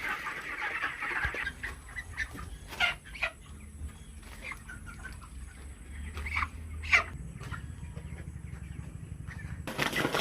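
Hens and a rooster being weighed cluck in scattered bursts amid soft shuffling and rustling. The sounds are moderately close and fairly quiet, with short pauses between calls.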